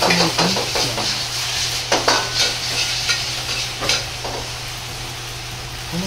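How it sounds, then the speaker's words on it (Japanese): Eggs poured into a pot with a tablespoon of oil over medium heat stir-fry with a bright, steady sizzle, while a utensil scrapes and clinks against the pan in quick strokes under a low hum. "鍋に大さじ1の油を入れ、卵を炒めていきます"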